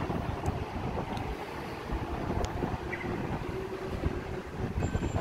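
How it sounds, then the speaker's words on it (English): A Sydney Metro train pulls away from platform 2 at Chatswood station, a steady low rumble with wind buffeting the microphone throughout and a few faint high tones. "Metro departing platform number 2,"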